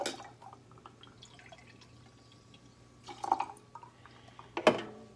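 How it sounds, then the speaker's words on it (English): Ginger beer goes into a Dark and Stormy cocktail in a glass, with a few faint liquid drips and splashes followed by a louder pouring gurgle near the end. The setting is a quiet room with no voices. "Nor have we put in ginger beer, which we're going to do now."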